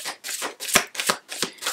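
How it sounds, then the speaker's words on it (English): Tarot cards are shuffled by hand in quick, crisp riffling bursts, about six rhythmic pulses, close and loud with no talk. "And I'm shuffling right now, as you can hear."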